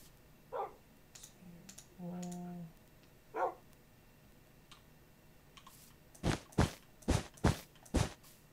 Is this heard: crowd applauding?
no